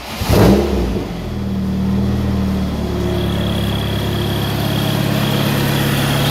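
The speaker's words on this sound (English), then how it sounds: "So got the car running." A turbocharged car engine fires up with a loud initial burst, then settles into a steady, droning idle with a rising whine as the turbo spools, close and continuous with no speech.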